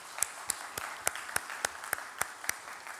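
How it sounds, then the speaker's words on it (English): An audience applauds a performing arts troupe at a welcome address, a short burst of sparse, distinct claps from a modest crowd rather than a roaring ovation. "Let's give them another round of applause."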